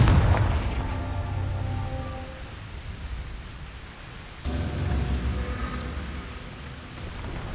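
A Confringo explosive spell from the game Hogwarts Legacy goes off in a loud booming blast that fades over a few seconds, then a second, softer boom follows with a rumbling, crackling tail.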